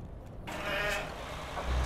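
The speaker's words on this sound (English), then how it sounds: "Hearing goats, it sounds like. Or, no, no, sheep." Sheep bleat in Euro Truck Simulator 2 over a steady truck engine rumble, with a couple of brief bleats rising midway and a louder engine swell near the end.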